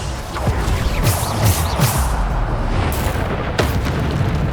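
Bombarda explosion spells go off in Hogwarts Legacy combat: several loud booming blasts, spaced a second or so apart, ring out over a continuous rumbling battle din.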